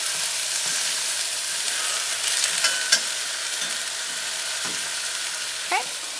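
Lemon caper chicken sizzles steadily in a hot pan after being flipped, a continuous close frying hiss with faint scraping and stirring taps and a brief squeal near the end.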